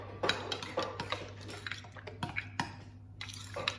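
Chicken and mayonnaise mixed in a bowl, soft wet squelching stirs punctuated by close clinks and scrapes of a utensil against the dish in an uneven rhythm, quiet and without speech.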